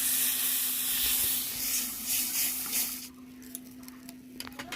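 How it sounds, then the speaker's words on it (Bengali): Water poured into frying spice paste of ground cumin in a village kitchen, a loud broad sizzle and hiss that dies down after a few seconds into soft crackles and pops. "জল দিয়ে দিলাম।"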